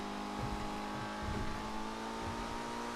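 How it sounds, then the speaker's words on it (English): Steady car engine drone in a GTA 5 stunt race, pulling hard from a respawn point, a continuous loud whine with low rumbling pulses underneath. "we're accelerating from the respawn here"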